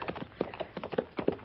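Horse hooves clip-clop in a steady, uneven trot rhythm, a radio drama sound effect from a 1956 Western set in Fort Laramie, moderately close and heard alone without talk.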